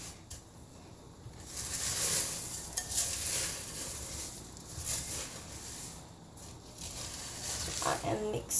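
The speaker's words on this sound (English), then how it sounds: "use the classic scraper to mix it until the cereal is fully combined with the marshmallows" Scraper stirring breakfast cereal into sticky melted marshmallows in a bowl, a soft continuous rustling and scraping that swells and fades over several seconds, close but fairly quiet.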